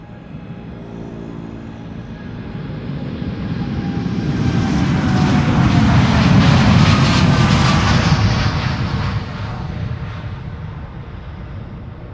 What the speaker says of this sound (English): TUI Dreamliner coming this way to Curaçao, Willemstad, flight 355